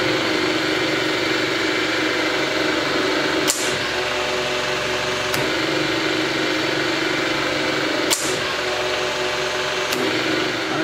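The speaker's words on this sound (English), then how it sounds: "First, we start the test bench. And then we energize the solenoid." An Austin Healey A-type overdrive turns on a test bench with a constant humming, whirring drone, broken by a few sharp clicks or knocks at intervals.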